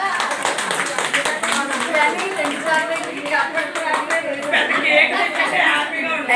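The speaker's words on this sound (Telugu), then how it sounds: "అందరూ క్లాప్స్ కొట్టండి." A group claps together at a Guru Purnima gathering in a friend's home, with dense sustained applause over about six seconds and voices talking and cheering underneath.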